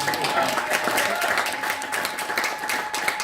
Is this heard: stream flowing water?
no